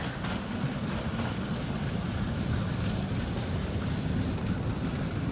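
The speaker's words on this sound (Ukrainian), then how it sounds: "І ось так наш трамвайчик." A tram rolls past on a city street in Dnipro, a steady low rumble of wheels on rails with faint clattering, continuous and fairly close.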